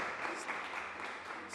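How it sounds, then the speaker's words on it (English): Audience clapping for a woman being introduced at an institutional ceremony, a soft, diffuse patter of many hands heard from some distance, steady and brief. "Can we have a round of applause for her?"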